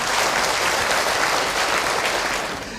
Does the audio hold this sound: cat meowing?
no